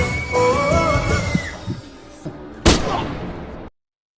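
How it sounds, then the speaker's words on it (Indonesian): Burst of gunfire from an action film scene about a gang fight, with loud sharp shots and a heavy blast near the end, layered over music and effects before an abrupt cutoff. "Di sini Reno langsung memberondong mereka dengan tembakan dan menyisakan satu orang."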